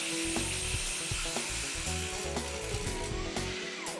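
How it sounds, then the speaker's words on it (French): A pneumatic rotary hammer drills into a concrete slab to fix profiles for a terrace, a continuous loud, close mechanical hammering with a steady rattling rhythm and no pauses. "Les profilés sont maintenant fixés à la plaque de béton et ce avec un marteau perforateur pneumatique."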